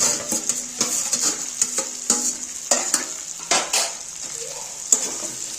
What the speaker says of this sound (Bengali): এর মধ্যে আমি এবার এই যে আলু আর ফুলকপিটা ছেড়ে দেবো।